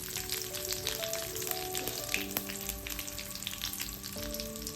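Green chillies and curry leaves sizzle steadily in hot oil for rasam, a dense, continuous crackle at close range with no talk, a faint steady tone running underneath.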